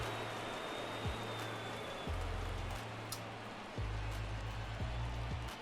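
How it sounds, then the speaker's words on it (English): Rain falls on a New York ballpark during a game in MLB The Show 24, a soft, steady hiss across the whole stretch with low stadium hums shifting beneath it. "the fact that it's raining in New York does not give me high hopes"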